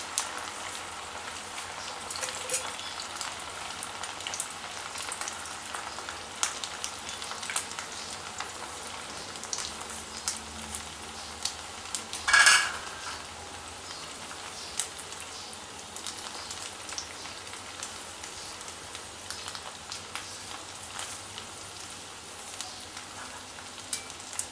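Falahari fasting balls fry in oil in a kadai, a low continuous sizzle with faint bubbling and scattered crackles, plus one brief louder clink midway, with no talking.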